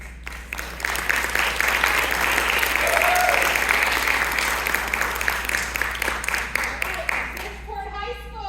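Loud sustained applause and clapping from a crowd at a high school performance, filling the room for several seconds before fading, with some voices mixed in.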